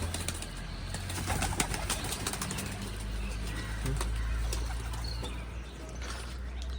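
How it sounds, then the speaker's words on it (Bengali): Pigeons coo and shuffle in a loft as they leave, with low murmuring coos, scattered clicks and occasional wing flutters over a steady low hum. "সব পায়রাই চলে এসছে, সব পায়রা বেরিয়ে গেছে"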